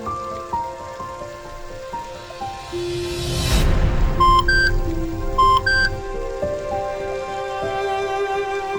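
Steady rain falls and patters on surfaces, a broad wash that swells louder midway while electronic beeps and tonal music notes play over it, with no talking.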